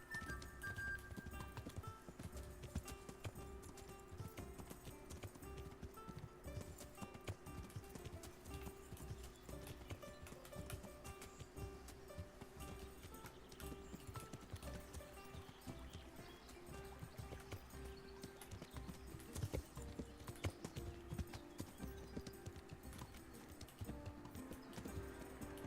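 Horse hooves clip-clop in a steady walking rhythm, with a faint whinny, from the video game Kingdom Come: Deliverance, heard at moderate volume over a low ambient game background.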